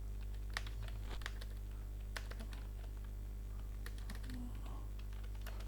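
Computer keyboard keys tapped in short irregular bursts while text is entered into a web page's HTML body, faint and close, over a steady low electrical hum, with no voice.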